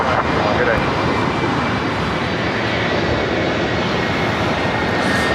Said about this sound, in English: Delta Airlines flight 978 heading to Vegas, 737-800